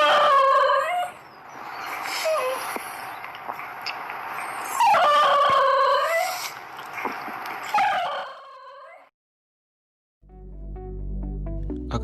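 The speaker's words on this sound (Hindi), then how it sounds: "बैसेंजी कुत्तों की एक ऐसी प्रजाति है जो बिल्कुल भी नहीं भौंकती।" A Basenji, a barkless dog breed, gives long warbling yodel-like howls in rising and falling waves, loud and close, twice in a row, then silence before a short unrelated tonal sound.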